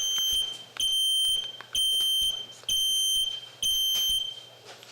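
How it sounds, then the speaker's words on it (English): A loud electronic meeting timer buzzer sounds in four repeated bursts, each about a second long, separated by short gaps in an otherwise quiet commission meeting room. "We know the buzzer's working."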